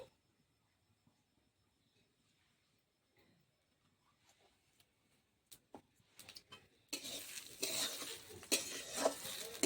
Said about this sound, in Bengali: চালটা ভেজে নিয়েছি ঘিয়ের সাথে।